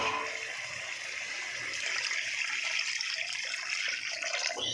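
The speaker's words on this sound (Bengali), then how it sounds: "এই যে এবার আমি জল ঢেলে দেবো" Water pours into a pot of sour fish curry being cooked, a steady splashing stream that swells slightly and runs on its own without talk.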